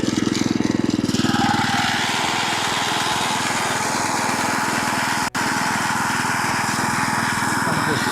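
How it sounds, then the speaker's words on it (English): A lawn mower runs steadily and loud at close range while cutting a home putting green, its engine drone continuous throughout with one brief dropout partway through. "I gotta mow the putting green."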